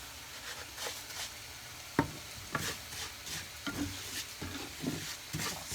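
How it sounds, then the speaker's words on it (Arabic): Fish searing in a pan for seafood paella, a soft frying sizzle punctuated by repeated scraping and knocking of a spatula against the pan, close and fairly quiet. "نمشي ثانيا نقلي الحوت، نشحر شويه الحوت"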